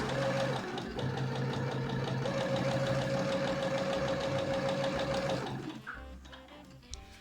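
A sewing machine stitches fabric for an apron, running in a steady close-up mechanical whir for about five seconds before slowing and stopping with a few light clicks.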